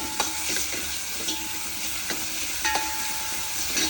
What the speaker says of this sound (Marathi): कांदा ब्राऊन होईपर्यंत परतून घ्यायचा।